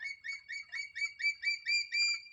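A serpent eagle calls from high in a simal tree, giving a rapid series of about ten clear whistled notes that swell slightly louder toward the end, heard alone in a quiet setting.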